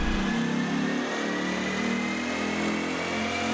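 A Jeep Grand Cherokee SRT8 (WK) Hemi V8 engine revs and holds at high RPM, a deep continuous roar with shifting pitch and no voices.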